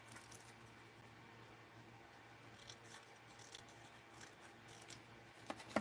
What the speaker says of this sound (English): I'm going to cut them a little more.